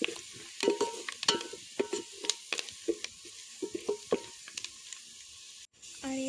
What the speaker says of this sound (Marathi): हे सर्व मसाले आता तेलात छान मिक्स करून घेते